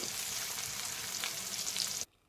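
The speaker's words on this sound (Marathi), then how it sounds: "हिरव्या मिरच्या त्या घातलेल्या तेलामध्ये परतून घ्यायचं आहे" Chopped green chillies sauté in hot oil, giving a dense, loud, continuous sizzle close by. It cuts off abruptly near the end.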